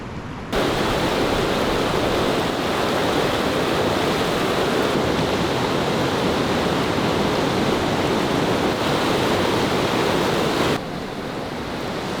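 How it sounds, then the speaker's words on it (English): Raging river rapids roar as a loud, unbroken rush of churning whitewater, close and steady throughout on a Boundary Waters paddling route. "these rapids are raging"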